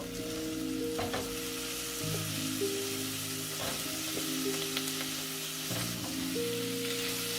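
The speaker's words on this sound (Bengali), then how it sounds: "আদা রসুনটা ভাজা হয়ে গেছে, এখন আমি দিয়ে দিচ্ছি চিংড়িগুলো।" Shrimp hitting hot oil already fried with ginger and garlic give a soft, continuous sizzle, with occasional stirring scrapes and sustained musical tones in the background.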